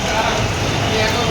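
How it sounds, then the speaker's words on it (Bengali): Heavy storm rain pours down as a dense, loud, continuous wash of noise that lasts the whole brief moment without letting up. "ঝমঝমে বৃষ্টি হচ্ছে, যেতে পারছি না।"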